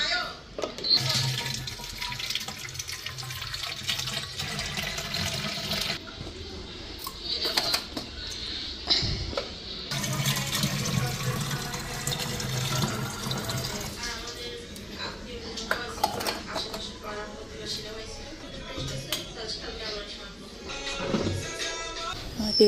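Tap water running into water bottles in a home kitchen, a continuous rushing splash that stops and restarts, mixed with clattering kitchen noise and occasional voices.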